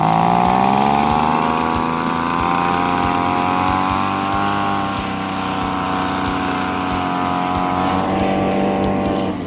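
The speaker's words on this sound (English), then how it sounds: "I really don't want to lose my leaf blower privileges again." A leaf blower runs loud and near as a steady motor drone with a strong whine, holding almost constant from start to finish.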